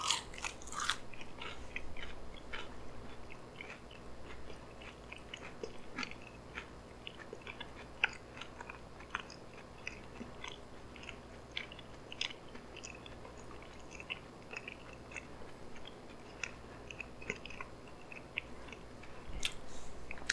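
Someone bites into and chews a mouthful of french fries, producing a long series of soft, wet crunches and chomps at a steady rhythm, heard close but fairly quiet.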